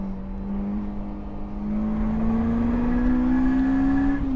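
A Lotus Elise on stock suspension and street tires is held flat out on a race track through a turn, its engine note steady and loud and climbing slowly in pitch as it accelerates, with no talk over it.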